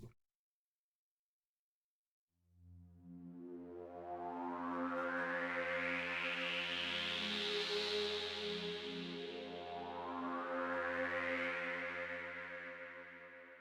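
Soft synth pad chords from a Halion preset using the Trium synth swell in after a brief silence, their bright filter sweeping up and down across two long sustained chords.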